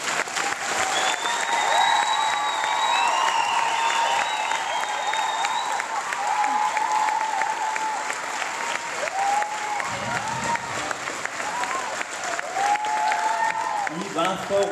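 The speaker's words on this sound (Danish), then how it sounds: "Kan vi lige få en kort klapsalve mere her?" A school audience claps through a comedy show, a dense, sustained round of applause filling the room from start to finish while voices and cheers rise here and there above it.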